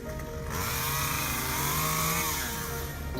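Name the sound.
chainsaw cutting tree limbs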